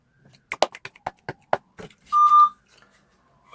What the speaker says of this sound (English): It will beep momentarily.